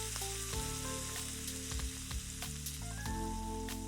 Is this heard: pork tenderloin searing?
yes